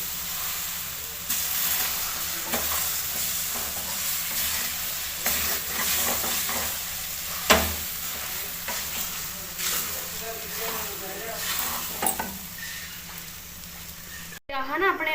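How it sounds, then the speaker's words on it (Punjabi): Mango pieces fry in a kadai over a gas flame for a chutney, with a steady sizzle and repeated scraping stir strokes all the way through, close and moderately loud. "ਇਹਨਾਂ ਨੂੰ ਆਪਾਂ ਅੰਬਾਂ ਨੂੰ ਪਹਿਲਾਂ ਚੰਗੀ ਤਰ੍ਹਾਂ ਭੁੰਨਾਂਗੇ"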